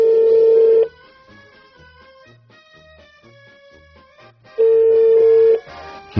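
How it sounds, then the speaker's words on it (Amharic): A telephone placing a prank call gives a loud steady ring tone, then a run of softer beeping dial tones, then the loud ring tone again. "ያ ይደወላ የነዋይ ስልኬት ነው"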